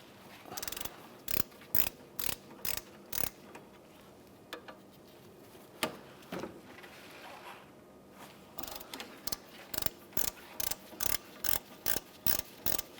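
A ratchet wrench loosens the 14mm brake caliper bolts on a 2011-2016 Hyundai Elantra during a front brake job, with two loud runs of rapid, evenly spaced metallic clicks separated by quieter handling noise.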